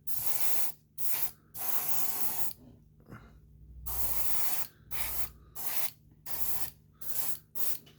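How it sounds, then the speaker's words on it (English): Airbrush spraying the last of its paint onto a 1/35 scale model tank, close hissing bursts of varied length with short silent gaps between them and a longer quiet stretch in the middle. "I'll just use up this last little bit of paint just in case I've missed any spots anywhere."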